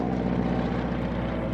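A BT-13 'Vibrator' monoplane trainer at an airshow gives a steady, loud propeller engine drone with a low rumbling hum that holds without a break.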